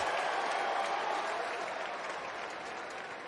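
A large crowd applauds and cheers at Dodger Stadium during a Rockies–Dodgers baseball game, a dense, continuous wash of clapping that fades slightly over a few seconds.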